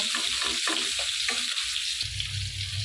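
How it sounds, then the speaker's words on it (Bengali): Onion, garlic and green chili fry in a pan with a bright, constant sizzle, while clattering stirring strokes sound in quick bursts during the first half before the frying hiss settles on its own. "এখানে কিন্তু আমার মাছ বর্তার পেঁয়াজ রসুনো কাঁচামরিচ ভাজাটা হয়ে গেছে"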